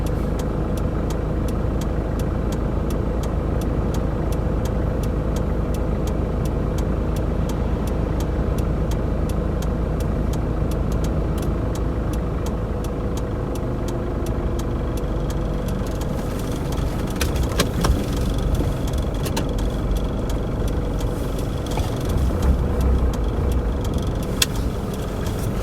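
Roadside traffic with car engines rumbling and idling close by, a steady continuous drone that lasts throughout, with a few faint clicks and knocks late on.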